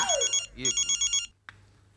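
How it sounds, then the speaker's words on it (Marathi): A telephone ringtone trills in a string of short, even pulses for just over a second, then cuts off abruptly, leaving a faint background hum and one soft knock. "हे मध्येच आहे फोन येतो."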